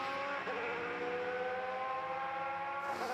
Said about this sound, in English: And that is the sound of the Cosworth V8